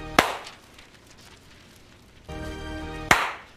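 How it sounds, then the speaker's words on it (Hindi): Two sharp hand claps, one at the start and one near the end, each loud and close with a quick decay, with a steady droning hum filling the stretch before the second clap and no voices. "इसलिए ट्रांजिशन वाली ताली बजा देते हैं"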